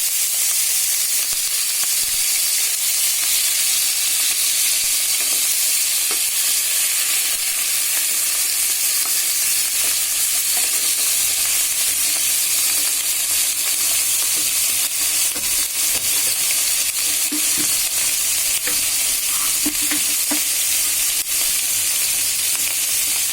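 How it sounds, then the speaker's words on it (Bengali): Spices hit about three tablespoons of hot oil in a frying pan while a vegetable dish is being cooked, giving a loud, continuous sizzle and crackle with scattered small pops and no talking. "এখন এই তেলের মধ্যে আমি যে মশলাগুলো রেখেছিলাম এগুলো একে একে দিয়ে দিব"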